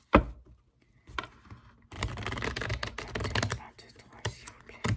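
Oracle cards are shuffled by hand in repeated rapid riffling bursts of papery flutter and slaps, close and fairly loud, with brief pauses between the runs.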